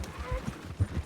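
Horse hooves clip-clop in Red Dead Redemption 2 gameplay, a quick, close run of soft thuds over a light background hum.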